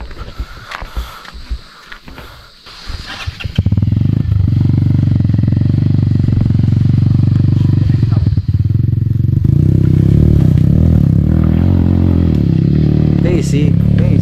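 A Honda ADV 160 scooter engine idles loudly and steadily while people talk nearby, with clattering and scraping sounds before it as the bike is lifted and moved.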